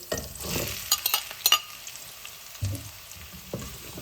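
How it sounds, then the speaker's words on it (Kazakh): Carrots and potatoes frying in a pot for a simple soup, a quiet sizzle broken by a few spatula stirs and soft knocks against the pan. "Енді бұл да енді жаймен қуырыла берсін."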